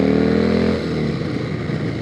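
A 1996 Harley-Davidson Sportster 1200S Street Tracker with an Evo engine revs hard and close, its loud throaty roar peaking, then dropping to a rough lumpy idle.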